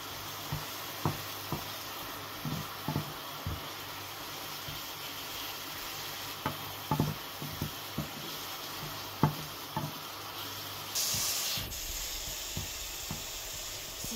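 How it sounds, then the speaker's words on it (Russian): Onion sizzles softly in honey in a pan, a quiet steady frying hiss broken by scattered scrapes and taps as it is stirred, with no one speaking. "И вот в этом меду мы этот лук пару минут мешаем."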